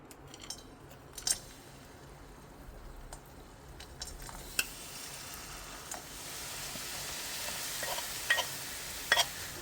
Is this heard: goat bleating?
no